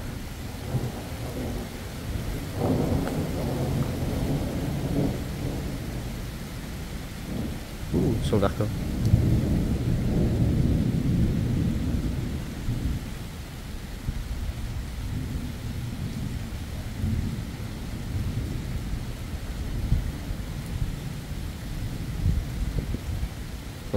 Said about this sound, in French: J'espère que ça va pas être les seuls orages